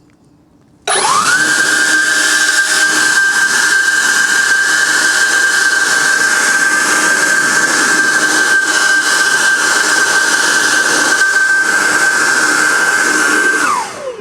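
An Ego 765 pressure washer fitted with a stubby nozzle sprays for about thirteen seconds. It makes a loud, steady hiss with a constant high whine, then cuts off at the end. No one talks.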